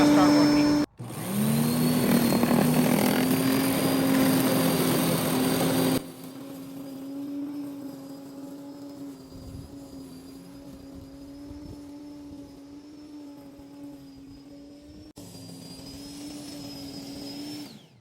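A dethatcher scarifier runs on a lawn, a loud steady motor drone with a high whine that drops to a quieter, even hum and then rises again briefly near the end.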